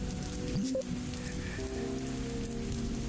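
Steady rain pours down on a wet night street, a dense continuous hiss of drops on surfaces with faint tonal background sounds running underneath for the whole stretch.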